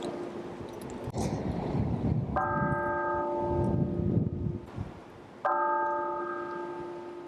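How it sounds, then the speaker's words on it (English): Campus bells toll at a university in memorial, two distinct strikes with sustained ringing harmonics and long decays, heard outdoors over wind and low rumble. "the bells will toll on campus to honor the lives lost"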